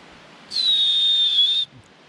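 A person whistles outdoors, holding a single clear high note for about a second, alone against quiet surroundings.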